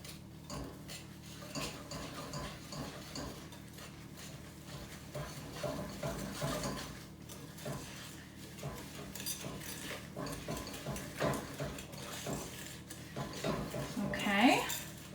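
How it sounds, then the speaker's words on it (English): A whisk beating eggs and brown sugar together in a bowl for cookie dough, a long run of quiet clinking and scraping strokes against the bowl with irregular rhythm, close by, building slightly louder toward the end. "I'm gonna use my whisk and I'm gonna mix together my eggs and my brown sugar."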